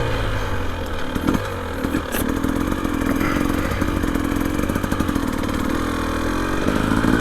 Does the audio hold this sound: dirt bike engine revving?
yes